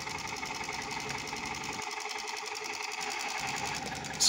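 A miniature battery-powered Dongfeng diesel engine model runs with a steady, rapid mechanical clatter throughout, fairly close and even, with a slight change in tone partway through.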